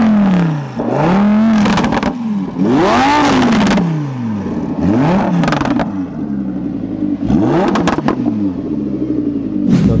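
A Lamborghini Huracan Spyder's 5.2-liter V10 revs hard in a series of loud, sweeping bursts that climb and fall, each rev rising sharply then dropping back, with brief pauses between, close and dominant with no talking.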